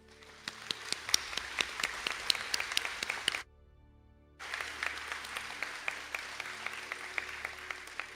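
Audience applause for engineering graduates at an Irish college conferring ceremony in Sligo, a steady round of clapping that stops abruptly for about a second, then resumes just as fully and carries on.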